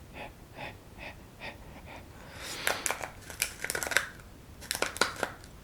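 A voice imitates a panting half golden retriever with quick, rhythmic breathy puffs, followed by denser crinkly, rustling bursts, all fairly faint and close.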